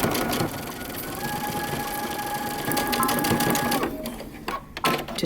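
A sewing machine runs continuously as it stitches a seam on a moto jacket, a close, even mechanical whir that stops near the end, followed by a few clicks and handling noises.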